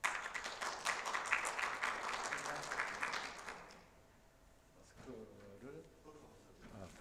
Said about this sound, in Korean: 예, 박수로 환영해 주십시오.